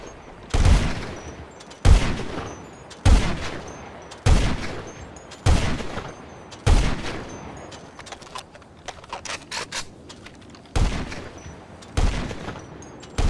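Heavy Sniper Mk1 and Mk2 rifles in the GTA 5 video game fire alternately, about eleven loud, booming single shots at a slow, steady pace, each with a decaying echo, mostly alone with no talking.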